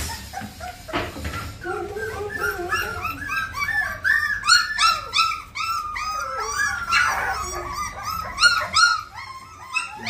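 Merle pit bull dogs whimpering, yipping and barking in quick overlapping bursts, several dogs close by and fairly loud throughout, with howl-like whines mixed in and no talk.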